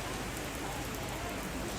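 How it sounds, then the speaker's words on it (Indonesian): Steady rain falling at a tongkonan in Toraja Utara, a continuous even hiss of drops on surfaces with no breaks, fairly faint and alone. "Saat ini juga sementara hujan."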